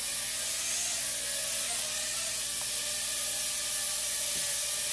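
A Loolinn X26 obstacle-avoidance drone flies nearby with a continuous high, thin whirring buzz of small propellers that holds steady throughout.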